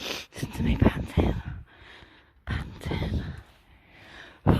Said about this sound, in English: Listen to me panting.